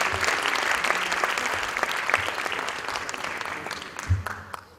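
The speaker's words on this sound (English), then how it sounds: "Another big round of applause," Audience applause at a Bharatanatyam arangetram dance recital, a dense, steady clatter of many hands filling the hall, gradually thinning toward the end with a brief low thump near the close.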